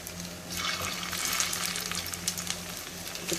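Kofta meatballs frying in a pan, a soft, continuous hiss and spatter with faint bubbling, fairly quiet and close, no voices.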